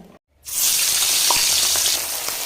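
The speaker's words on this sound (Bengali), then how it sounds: "তেল গরম হয়ে গেছে, মাছগুলো ভেজে নেব।" Rohu fish pieces, rubbed with salt and turmeric, dropped into hot oil, bursting into a loud, steady sizzle and crackle after a brief silence, with occasional small pops and spatters.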